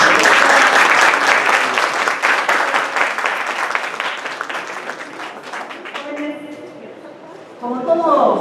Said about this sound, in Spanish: para que nos dé un fuerte aplauso